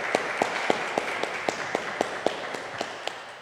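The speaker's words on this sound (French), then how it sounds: "Applaudissons le docteur Louis" A small audience at a Tuesday Bible study gives Dr Jacques Louis a round of applause: sparse, evenly spaced claps, fairly quiet, a dozen or so over a few seconds.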